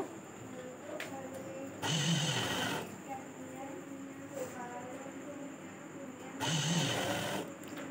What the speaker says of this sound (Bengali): উল্টো পিঠে ভাঁজ করে টানা সেলাইটা আমি এবার দিয়ে নেব